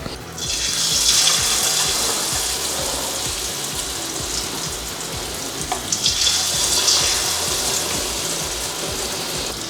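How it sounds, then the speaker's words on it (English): Shrimp frying in hot oil for honey walnut shrimp, giving a loud, continuous sizzling hiss that swells as the shrimp go in and keeps crackling steadily, with no voices. "It's time for frying the shrimp."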